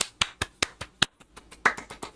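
Hands clap in a quick, even run of about ten sharp, dry smacks, close to the microphone, with no talking over them.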